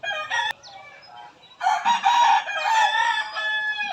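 Allen Gray stag rooster crowing up close, a loud drawn-out call with a brief earlier crow, and a second bird crowing nearby over it.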